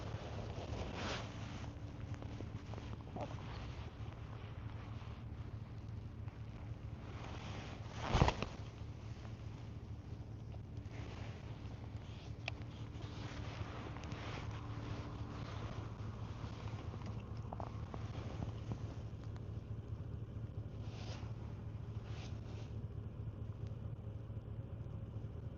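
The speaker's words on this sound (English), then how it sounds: "We just need this wind to die down." Wind rumbles steadily across the microphone at a night fishing spot for carp and bullheads, a low constant roar lasting throughout with one brief louder thump, and no talking.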